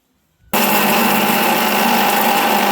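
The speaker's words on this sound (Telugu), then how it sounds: "సన్ఫ్లవర్ సీడ్స్, ఈ గుమ్మడి గింజలు, బాదం, అక్రూట్, ఇలాచి ఫ్లేవర్కి, ఇవన్నీ మిక్సీ పట్టుకోవాలి." An electric mixer grinder starts abruptly and runs at full speed, grinding sunflower seeds, pumpkin seeds, almonds, walnuts and cardamom for ragi malt with a loud, steady whirring roar close up.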